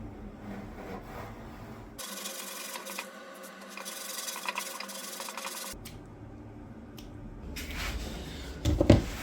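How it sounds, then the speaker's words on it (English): Handsaw cutting through timber in a workshop, a dense rasping stroke sound lasting several seconds, pausing briefly and resuming, close and fairly loud. "I might just cut that with a handsaw."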